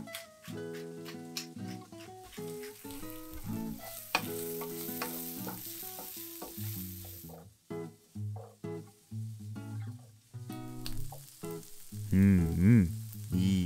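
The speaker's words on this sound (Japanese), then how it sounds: "美味しそうな匂いと食材を炒めていく音が食欲をそそる" Ingredients stir-fried in oil in a pan with salt, black pepper, wholegrain mustard and soy sauce, a steady close sizzle with scraping stir strokes running throughout under faint background music, swelling louder near the end.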